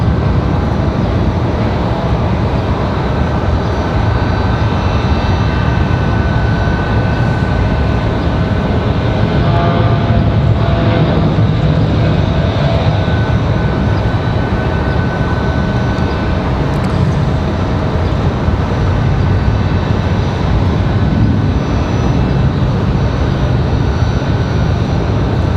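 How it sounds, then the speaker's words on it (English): A Southwest Boeing 737 MAX 8 airliner at Raleigh-Durham airport, a loud continuous engine roar and broadband rumble that holds steady for the whole stretch, with no talking. "another MAX 8 here for Southwest"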